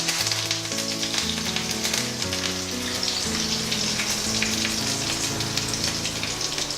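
Loud, crackling sizzle of leaves hitting hot oil, close up and continuous, with a low hum of cooking music underneath.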